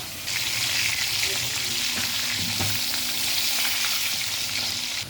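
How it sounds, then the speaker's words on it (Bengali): Potatoes frying in oil for a shortcut mutton dish, a steady close sizzle with bright hiss throughout and faint clinks of utensils, no talking. "আলুগুলোকে ভাজা হয়ে গেল"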